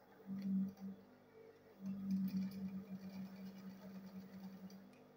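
A sewing machine stitches a handbag in two bursts of motor hum, a short run followed by a pause and then a longer steady run, quiet and close with no talking.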